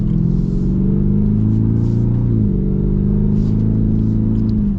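A 2026 Ford Raptor R's supercharged V8 rumbles loudly and close, with a steady deep engine note that rises and then dips around the middle before settling again, with no talking.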